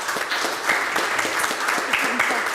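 Applause from an audience at a Portuguese patient associations' discussion panel, steady clapping filling the short stretch at moderate loudness.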